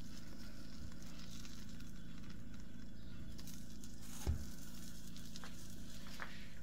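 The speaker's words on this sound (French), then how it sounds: "avec la presse, on vient appuyer légèrement et on laisse griller." A burger bun toasts on a grill under a press, giving a soft, steady sizzle and faint crackle, close and continuous, with one brief clunk partway through.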